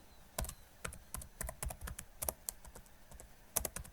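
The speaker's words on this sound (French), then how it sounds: "je clique sur ma case, je tape béton, je fais entrée" Short bursts of typing on a computer keyboard, heard close as separate crisp key taps with uneven rhythm and small pauses between them, with no voice over them.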